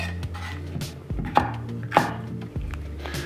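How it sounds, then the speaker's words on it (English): Bell peppers being chopped on a cutting board into small spoon-sized pieces for soup, a series of distinct knife thuds at an uneven pace, close and clear with no talking. "We're gonna cut up these peppers in about spoon-sized pieces."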